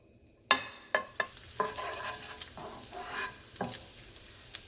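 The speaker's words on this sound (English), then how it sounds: "trimmed duck fat to this, and I'm going to render the fat" Duck fat trimmings render in a pan that started cold, giving soft crackles and small pops with light scraping of stirring, fairly quiet and close, with no voices.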